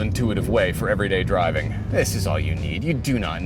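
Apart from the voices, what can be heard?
No distinct noise like a dog, phone or traffic.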